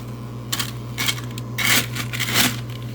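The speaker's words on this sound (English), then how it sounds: "you can see it is making more ice right now" A Newair countertop nugget ice maker churns out ice, giving a few clattering bursts and rattles as nuggets tumble into the bin, close over a steady machine hum.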